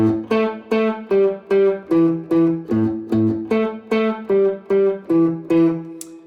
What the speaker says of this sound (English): So this pattern with straight eighths sounds like this.